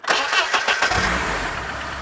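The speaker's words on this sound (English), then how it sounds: "I think I might actually start the car just so you can see what it" A BMW 318is E30 with a stroked M42 engine cranks and catches, rising quickly to a loud, rough idle that settles into a steady, close rumble.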